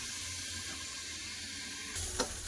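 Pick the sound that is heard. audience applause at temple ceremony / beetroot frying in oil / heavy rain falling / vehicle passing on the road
beetroot frying in oil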